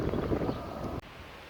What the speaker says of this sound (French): la tramontagne s'est de nouveau mise à souffler, ça souffle très fort ce matin